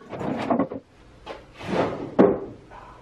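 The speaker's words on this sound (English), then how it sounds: "Oops, that drawer hits the tabletop" Wooden workbench drawer knocking against the tabletop, heard as a few close hollow wooden bumps and scrapes, with a sharper clunk near the end.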